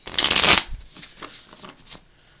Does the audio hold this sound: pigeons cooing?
no